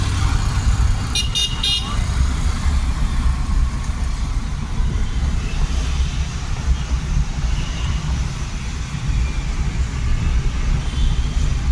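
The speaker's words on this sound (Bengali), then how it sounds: "হর্ন মারছে" Car horn honking amid steady road traffic and engine rumble, a short burst of beeps early on, then continuous vehicle noise with no further clear honks.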